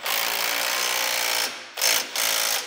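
A power tool tightens the lower rear shock bolt on a Buick Grand National fitted with Bilstein shocks, a loud, steady whirring buzz that stops, then comes back in two short bursts, close up with no talking.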